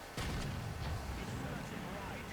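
A tank cannon fires a shell in War Thunder ground battles, a single deep booming blast near the start followed by a lingering low rumble.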